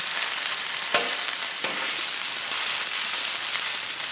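Pork chops sizzle steadily in a hot frying pan just after being flipped, a dense close crackling hiss with two sharp clatters from the turning.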